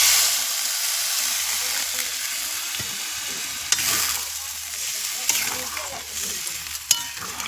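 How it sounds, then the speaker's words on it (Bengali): Spicy chicken sizzling loudly in a pan over a wood fire as water goes in, with steady hissing frying noise, a few sharp clinks and stirring scrapes, close and continuous. "চলো বন্ধুরা জল দিয়ে দিই এবার"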